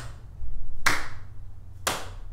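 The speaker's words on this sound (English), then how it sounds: "another common way of clapping is the clap out" Two sharp hand claps about a second apart, loud and close over a low steady background hum, marking a clap-out rhythm during a ukulele lesson.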